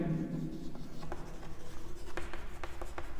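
Chalk or marker writing on a board during a physics lesson, heard as a steady run of short scraping strokes and taps at moderate level with no talking.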